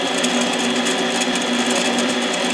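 Harbor Freight mini lathe turning steadily while machining a pop-up piston for a Husqvarna 372 chainsaw, a constant close whirring hum with a high cutting whine and no pauses.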